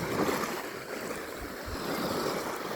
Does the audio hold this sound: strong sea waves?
yes